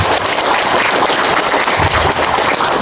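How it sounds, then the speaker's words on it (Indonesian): Loud, dense audience applause at a labour union branch meeting, continuous close clapping throughout with no pauses. "Tepuk tangan semua."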